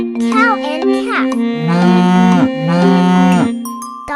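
A cow and calf moo in several long, loud, drawn-out lowing calls, one after another and close up, with a brief higher bleat near the end.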